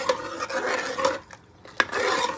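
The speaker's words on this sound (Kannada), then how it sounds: "ಇವಾಗ ನೀಟಾಗಿ ಮಿಕ್ಸ್ ಮಾಡ್ಕೋಬೇಕು ಗೈಸ್." A spoon scrapes and clinks around a pot as a sizzling tempering is stirred into moong dal sambar, a few rhythmic strokes with a brief pause and one sharp metallic tap, close and alone.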